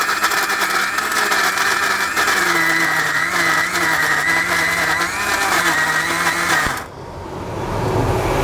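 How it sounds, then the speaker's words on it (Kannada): An electric mixer grinder whirs steadily as it grinds tender country chicken without water, a loud continuous motor whine that cuts off near the end, leaving a quieter rattle. "ಈಗ ಇದನ್ನು 2 ಸಾರಿ ನಾನು ಮಿಕ್ಸಿಗೆ ಹಾಕ್ಕೋತೀನಿ."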